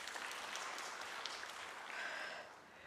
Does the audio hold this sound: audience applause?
yes